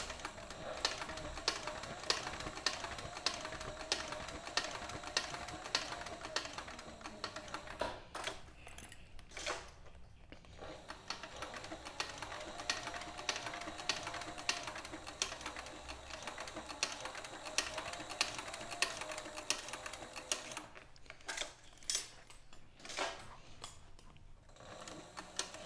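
A sewing machine runs decorative stitching on a leather keeper for a 6-inch back cinch, a fast, even mechanical chatter in long runs with a few short pauses between passes.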